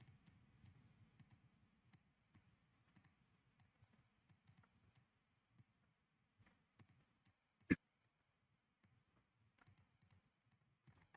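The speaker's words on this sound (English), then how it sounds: "Mostly just the sound of me clicking my mouse again and again." A computer mouse is clicked over and over at a desk, faint sharp clicks coming in irregular bursts with short pauses, plus one louder snap partway through. No one speaks.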